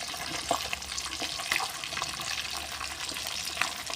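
Steady crackling sizzle of food frying in a pan, with occasional sharper pops and light scraping, no voices.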